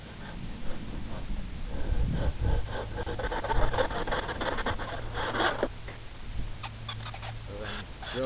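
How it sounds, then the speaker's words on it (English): A hand saw cuts an angle into the end of a recycled wooden cross brace, giving steady rasping back-and-forth strokes, close and fairly loud, with a few sharper scrapes near the end. "then use the saw to cut this angle"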